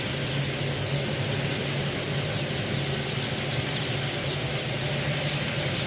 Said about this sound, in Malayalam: ഫീഡർ റൺ ചെയ്യുന്നതിൻ്റെ സൗണ്ടാണ് ഇപ്പോൾ കേൾക്കുന്നത്